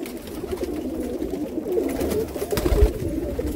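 Pearl-spotted pigeons at a pigeon sale in Jammu coo in a steady, close, low chorus of overlapping throaty calls, with no talking.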